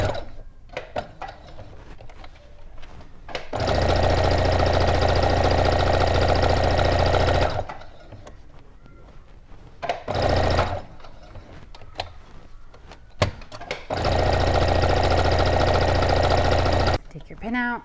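A sewing machine stitches a pin cushion in bursts of rapid, even whirring chatter, several seconds each, separated by pauses filled with soft handling noises and talk.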